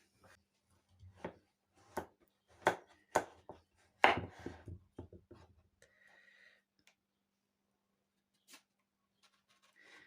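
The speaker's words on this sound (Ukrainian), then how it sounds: "Кабачки зараз я поріжу кубіком" A knife chops young zucchini into cubes on a board. There are several sharp, evenly spaced knocks, then a quicker cluster of cuts, all close and distinct against a quiet background.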